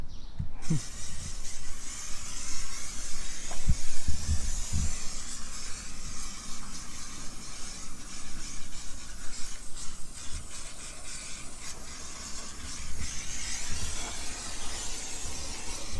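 Waterless engine cleaner hisses from an aerosol can onto a motorcycle engine and battery in steady spray bursts, close by, with a few knocks and clicks early on.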